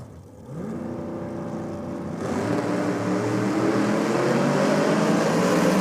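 A nitrous-fed big block drag car racing down the track: a loud, steady engine roar that swells and holds at full power, heard from nearby over a few seconds.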